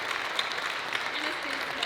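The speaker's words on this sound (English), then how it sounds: "One more round of applause for John Binkley" Applause from a gala awards audience for honoree John Binkley, a steady close wash of many hands clapping with faint talk beneath it.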